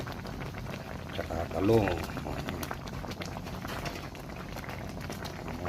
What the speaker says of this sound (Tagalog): Pakulo naman natin tilapia